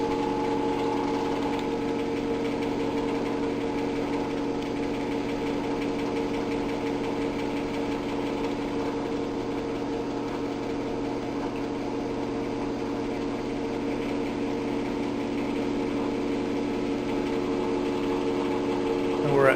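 A pump raising pressure during a lab instrument calibration, a steady close motor hum with a constant tone and slight vibration, running unbroken throughout.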